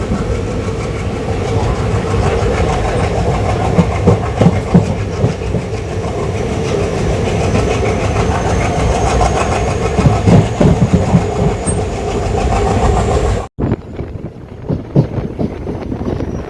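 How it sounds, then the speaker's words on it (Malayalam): A train hauled by an ALCO diesel locomotive runs steadily near Chengannur station in light rain, with continuous loud rumbling, wheel clatter and wind buffeting, then a sudden cut to a quieter, thinner rolling sound near the end. "ഈ ട്രെയിൻ എറണാകുളം ജംഗ്ഷനും കൊല്ലം ജംഗ്ഷനും ഇടയിൽ ഡീസലോടാണുള്ള"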